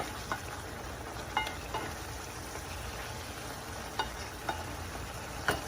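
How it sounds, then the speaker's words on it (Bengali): Chicken pieces sautéing in a pot for biryani, a steady low sizzle with a few sharp clinks of a spoon scattered across the stretch, no voices. "চিকেনটা আমি এখানে একটু কষিয়ে ফেলবো।"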